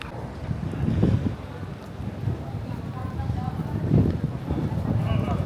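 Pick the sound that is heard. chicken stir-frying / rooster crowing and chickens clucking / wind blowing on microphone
wind blowing on microphone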